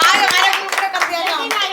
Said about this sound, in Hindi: पूनम के लिए तालियां बजाई जाए एक बार।